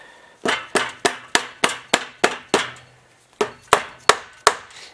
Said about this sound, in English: We're just going to work it in with the rubber hammer.